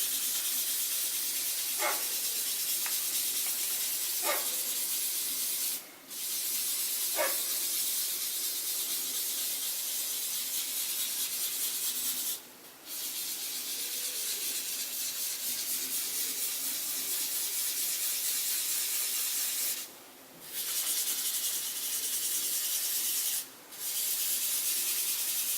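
Drawing paper rubbed in a circular pattern to blend shading, a continuous close hiss of friction broken by a few short pauses.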